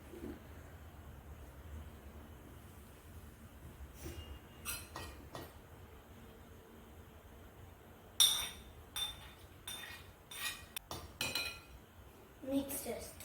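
A spoon scrapes and clinks against a bowl while beetroot salad is mixed: quiet, irregular metallic taps and clatters, sparse at first, then denser toward the end, with some talk nearby.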